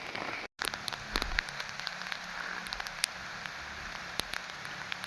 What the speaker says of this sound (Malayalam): ഇപ്പോൾ എല്ലാ ദിവസവും നല്ല കനത്ത മഴയാണ്